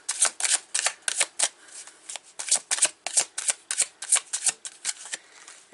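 Cards from a quirky tarot-style deck being shuffled, a quick series of crisp riffling bursts close by, steady and rhythmic with no talking.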